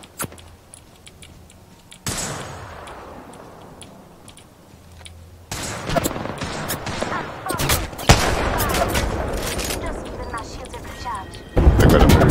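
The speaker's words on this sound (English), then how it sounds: "I am taking fire, friends." Bursts of rapid automatic gunfire in a first-person shooter video game crackle through the mix, heavier and denser toward the end, while players talk over the shooting.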